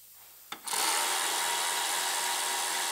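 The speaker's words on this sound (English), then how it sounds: "Then we'll use our electric ratcheting hammer to fine tune it" Electric ratcheting hammer working on a car's damaged pillar and rocker during body repair, a sudden onset into a loud, steady, dense buzzing rattle that runs continuously without talk.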